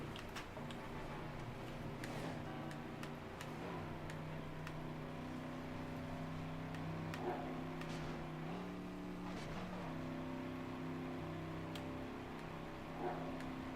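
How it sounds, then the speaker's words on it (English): A car engine in the Midnight Club 3 Dub Edition racing game, a steady sustained drone with shifting pitch steps as it revs and changes gear, loud and continuous throughout with no talking. "Real nice engine sound, I'll give it that much."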